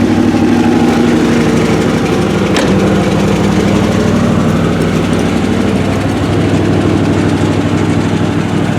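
A Chrysler Newport R body car engine idles steadily and loudly close by, a low continuous rumble with an even pulse throughout and one brief click partway through.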